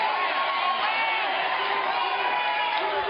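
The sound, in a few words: crowd cheering at a campaign rally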